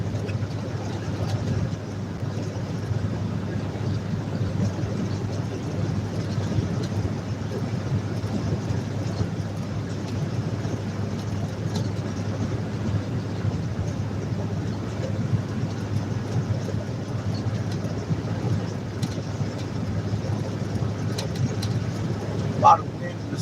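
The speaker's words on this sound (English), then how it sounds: "A lot of wind this evening." Steady wind buffeting the microphone during an evening cruise, a continuous low rumble with engine-like drone underneath, unbroken for the whole stretch with no talk.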